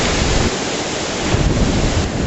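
Intense, roaring wind during Super Storm Sandy at night beside floodwater, a loud unbroken broadband rush with gusting surges and buffeting on the microphone, with no voices.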